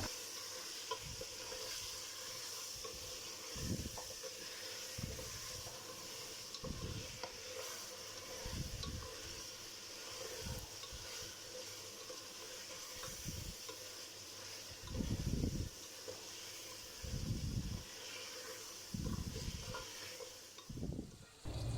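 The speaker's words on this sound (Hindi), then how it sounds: "अब हमने जो है ना खूब अच्छी तरह से यहाँ पर पाए को करना है फ्राई जिंजर गार्लिक पेस्ट के साथ" Mutton trotters frying in a pan with ginger garlic paste: steady sizzling with periodic scraping and stirring strokes over the continuous hiss.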